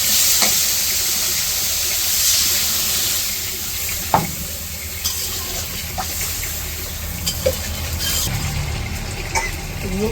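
Broth is poured into a pan of fried, spiced potatoes for a village-style egg curry, giving a loud, steady sizzle and bubbling with scattered stirring scrapes and clinks.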